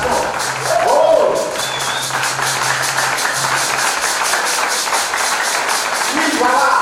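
A crowd at a church event claps and cheers continuously in a dense, steady wash of applause, with a voice briefly speaking over it.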